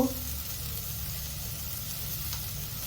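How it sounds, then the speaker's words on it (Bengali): Turmeric and cumin powder frying in a pan with chopped green chilli give a steady, quiet sizzle that holds evenly throughout, with no talking. "এর মধ্যে দিয়ে দেবো হলুদ জিরে গুঁড়ো"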